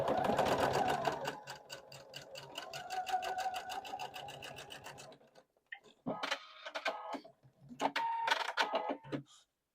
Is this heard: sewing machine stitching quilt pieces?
yes